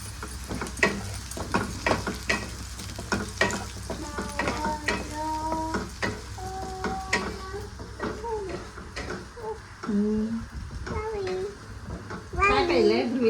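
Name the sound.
tomatoes frying with onion in a pan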